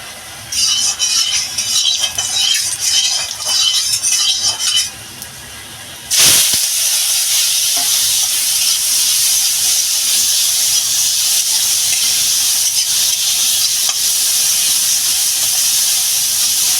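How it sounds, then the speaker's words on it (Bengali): Shrimp seasoned with salt and turmeric sizzling and spitting in a hot wok, a loud steady frying hiss that swells sharply after a brief lull and keeps going, with no talk over it. "কড়াইটা গরম হয়ে গেছে আমি এবার চিংড়ি মাছটা ভেজে নেবো"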